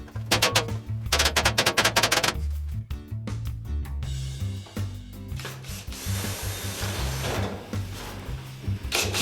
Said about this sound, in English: secure these in place by drilling the holes and installing the screws